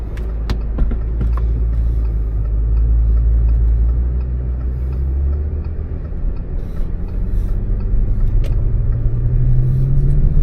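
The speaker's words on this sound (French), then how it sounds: "on retourne en voiture et on reprend la route" A small car drives along a windy road, its engine a steady low rumble under road and wind noise, with a few sharp clicks early on and the engine note rising toward the end.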